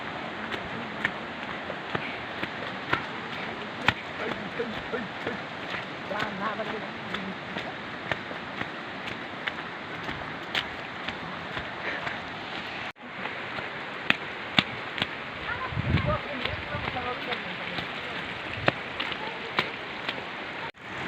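Rain falls steadily near a cave during heavy monsoon weather, making a continuous dense hiss with scattered louder spatters and a brief low rumble partway through.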